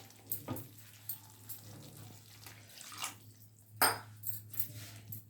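Water pours into a pan of ivy gourd curry thickened with groundnut powder, giving a soft splashing trickle with a couple of brief louder gushes over a faint background hum.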